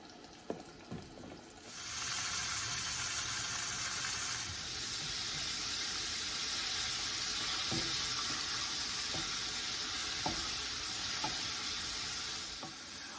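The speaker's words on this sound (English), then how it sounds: "While my chicken tenders are frying" A steady, loud sizzle of flour-coated chicken tenders frying in hot grease starts after a couple of seconds and continues, with occasional soft clicks and taps of utensils.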